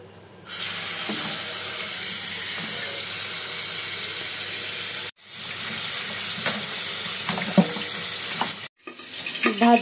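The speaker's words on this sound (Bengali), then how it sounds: "ভাজি দেওয়ার সময় একটু পানি ছিটে গেছে, এমন ফোটা শুরু হয়েছে," Hot cooking oil spattering after a splash of water: a loud, continuous hiss full of crackling pops that runs close up and is cut off twice by brief silences.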